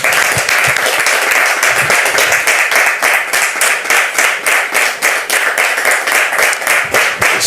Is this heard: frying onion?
no